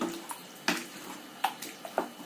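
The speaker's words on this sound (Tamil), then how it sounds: "அளவாக கறிக்கு தகுந்த மாதிரி பார்த்து தண்ணியை ஊற்றிக்குங்க" Water poured into a pan of mint chicken gravy (green chicken curry), heard as a few short, faint splashing bursts spaced unevenly over quiet kitchen background.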